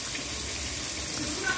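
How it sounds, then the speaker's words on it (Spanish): Water being added to a pot of boxed mac and cheese pasta, a soft continuous pour and splash heard faintly in a quiet kitchen. "Le vamos a un poquito de agua."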